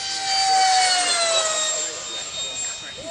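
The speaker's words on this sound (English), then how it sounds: "Also an electric aircraft, ducted fan, twin engine, twin motor, and thrust vectoring." Electric twin-motor ducted fan model aircraft with thrust vectoring flying overhead, a high whining whistle that slides downward in pitch as it passes, fairly close, with people talking underneath.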